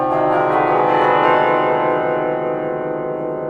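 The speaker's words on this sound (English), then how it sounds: "Let's see how it sounds on bells." A musical scale rung on bells, with rich overlapping tones sustaining and blending into a continuous resonant wash, loud and without voices.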